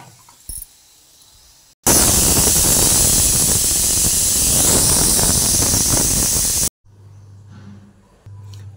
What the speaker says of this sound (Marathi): आता मी याचं झाकण लावून घेते आणि 2 शिट्ट्या करून घेते.